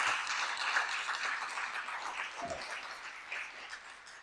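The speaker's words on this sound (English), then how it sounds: "And I think we owe him another round of applause for this extraordinary movie." An audience at a film festival Q&A applauds after a screening, a soft, continuous patter of clapping that sounds somewhat distant and fairly quiet throughout, with no talk over it.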